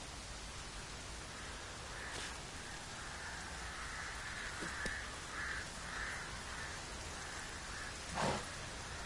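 Steady rain hiss falls in The Witcher 3, a continuous even patter with a few brief sharper sounds and a faint crow-like call over it.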